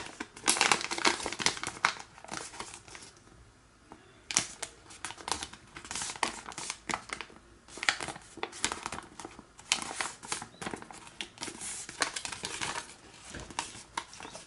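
Origami paper folded into a cross bookmark crinkles and rustles up close, in soft, irregular creases and presses with brief quiet gaps.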